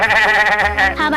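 A voice imitates a sheep with a single drawn-out, wavering bleat, loud and close, in an animated Charlie Brown production.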